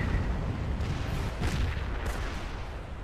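Panzerschreck rocket teams in the Company of Heroes video game fire in rapid succession, producing a dense, continuous roar of launches and booming blasts with no pauses.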